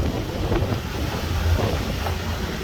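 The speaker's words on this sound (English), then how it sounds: "It's still windy." Wind buffets a microphone outdoors on a property with grass-cutting tractors, a steady low rushing roar with gusty swells and no voices.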